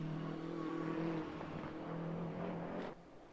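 A BMW GT race car at Autodrom Most in an ADAC GT Masters race, its engine droning loud and steady, then dropping away sharply near the end as it passes by.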